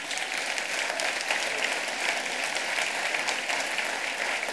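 An audience at a talk event applauds steadily for several seconds, a dense even wash of clapping with no voices over it.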